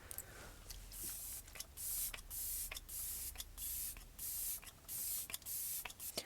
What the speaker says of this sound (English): So I'm just going to go ahead and spray it on my face.